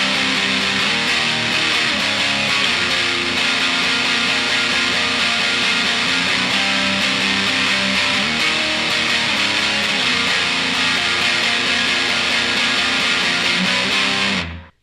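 A distorted electric guitar plays a grunge riff of inverted power chords, loud and continuous with a steady chugging rhythm before stopping abruptly at the end.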